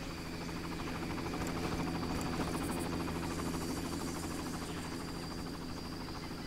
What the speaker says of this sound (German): Ich höre einen Helikopter.